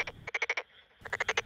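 A Tokyo Daruma pond frog croaks in rapid pulsed bursts: a quick run of five or six rasping notes, a short pause, then another run, fairly close and clear.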